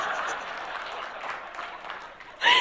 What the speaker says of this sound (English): That's what you guys clap at?